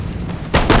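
Musket volley fire by a company of line infantry in the Empire Total War battle game: a low rumble followed by two loud, close, booming shots in quick succession near the end.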